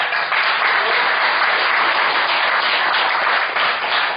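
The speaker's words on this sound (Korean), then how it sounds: "박수 한번 보내주세요." Audience applause at a book concert, a steady, loud wash of many hands clapping that holds evenly from start to finish.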